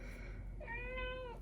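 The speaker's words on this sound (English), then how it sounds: "if you can hear her meowing" A single drawn-out meow from a cat, fairly close and clear, rising and holding for under a second over a low background hum.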